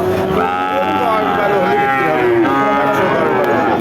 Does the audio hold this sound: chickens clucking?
no